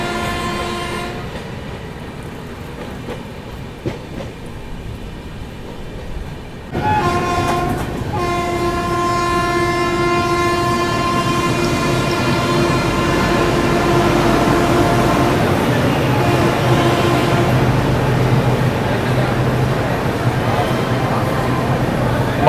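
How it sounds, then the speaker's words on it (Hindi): Taj Express passenger train pulling out alongside at Mathura Junction, heard from an adjacent train: a sudden rise into steady rumbling rail noise with sustained horn-like tones and rolling wheel clatter, loud and close throughout. "बगल से डिपार्चर ले रही है ताज एक्सप्रेस"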